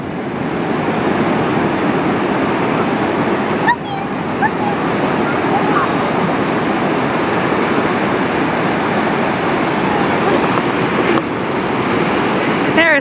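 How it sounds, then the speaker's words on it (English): Big ocean waves at Roads End beach in Lincoln City, a loud continuous roar of surf with wind buffeting the microphone, steady and close throughout, with brief faint voices. "There are some big waves out here, people."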